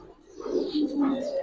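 A Giribaz pigeon chick makes soft, close, wavering cooing and squeaking calls in a short run of several notes, with no talking.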